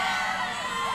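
A crowd gathered at a launch pad cheers and whoops to see off a departing space elevator, a brief, bright wash of many raised voices sounding close and lively.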